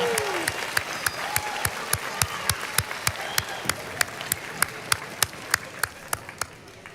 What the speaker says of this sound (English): please give a round of applause to Mr. Gordon, who did such a fantastic job.